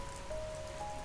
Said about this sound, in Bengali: অমনি এই বৃষ্টিটা আবার জাঁকিয়ে এলো